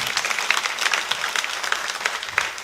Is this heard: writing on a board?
no